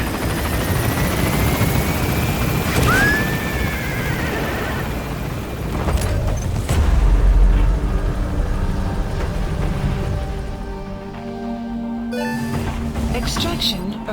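An extraction helicopter in Metal Gear Solid V lifts off with a steady, loud rotor drone that holds throughout, joined by a brief whistling sweep and scattered in-game effects.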